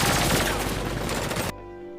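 Sustained, dense burst of automatic gunfire in an action film scene, a disguised gunman spraying bullets at a judge; loud continuous rattling for about a second and a half, then cutting abruptly to quieter background.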